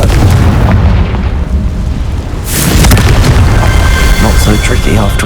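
A Confringo blasting spell explodes in Hogwarts Legacy, a broad booming burst about halfway through that swells over a dense, rumbling game soundscape and lingers as a loud wash of noise.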